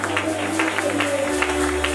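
Church congregation in the middle of a lively worship service cheering and applauding, a steady wash of clapping and voices over a sustained low musical drone, moderately loud and continuous throughout.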